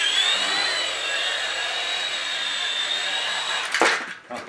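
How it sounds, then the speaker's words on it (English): A small SH 6035 X2 Max RC helicopter fitted with landing gear hovers indoors, a loud steady high-pitched rotor whine close by, ending in a brief clattering knock as it settles. "Let's try flying it with that landing gear."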